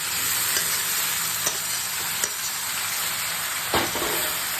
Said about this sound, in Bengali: আর এই তরকারিটা কাঁচা হলুদ বাটা দিয়ে সাঁতলে নিয়েছি, একটু ভেজে ভেজে হালকা করে।